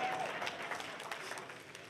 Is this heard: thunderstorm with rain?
no